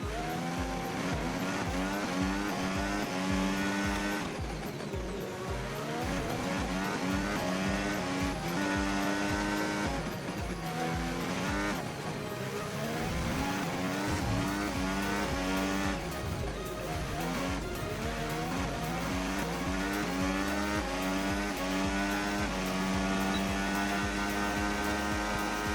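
An F1 race car in the F1 25 video game screams through a qualifying lap, its engine note climbing and dropping steadily through the gears with brief tire squeals, loud, continuous and alone without talk.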